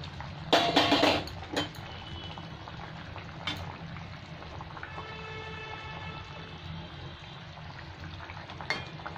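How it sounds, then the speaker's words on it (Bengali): Bengali baata fish curry with eggplant and potato bubbles in a pan with a steady soft simmer. A burst of utensil clatter and sizzling opens it, then quieter continuous bubbling follows with an occasional light knock. "আর 1-2 মিনিট ফুটে গেলেই আমার মাছের ঝোল হয়ে গেছে।"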